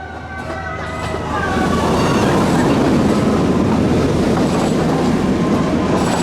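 The Icon roller coaster train at Blackpool Pleasure Beach rumbles past close by at night, its steady roar building in the first seconds and then holding loud, with faint clattering of wheels on track.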